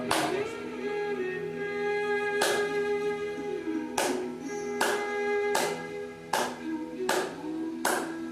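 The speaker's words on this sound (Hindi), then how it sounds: "ऐसे ताली बजाते हुए 2 मिनट आप ताली बजाएं" During an Ayurvedic blood-pressure exercise, a single person claps with cupped, closed hands at a steady slow pace, sharp isolated claps spaced under a second apart over a sustained background hum, fairly close.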